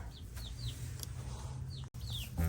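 Homestead hens give soft, scattered clucks and short rising calls over a steady low hum, faint and fairly distant, with no talking.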